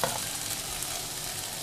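Green beans stir-fry with salted pickled vegetables in a hot pan, giving a steady, close sizzle and frying hiss with light scraping from stirring, continuous throughout with no talking.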